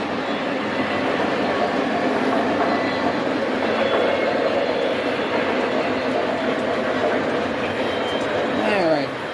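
A train runs along the tracks nearby, a loud continuous rumble with clattering wheels and a brief squeal near the end; a voice may be faintly present.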